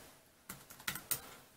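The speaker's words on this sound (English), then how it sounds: "And I am typing on this keyboard here. You can probably hear me clicking." Soft clicks from the physical keyboard of a BlackBerry Passport: about four quiet, separate keystrokes spaced unevenly, close and alone.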